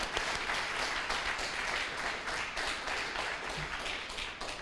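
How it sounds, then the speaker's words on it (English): Sustained applause from a members' audience at the annual general meeting of a mountain bike association, a dense steady wash of many hands clapping at even volume throughout, with no voices over it. "So I think that's worth a round of applause"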